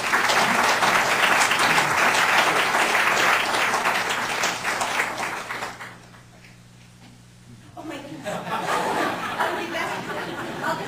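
A lecture audience gives a welcoming round of applause for a visiting professor, dense sustained clapping with some chatter and light laughter that thins out about halfway, pauses briefly, then picks back up.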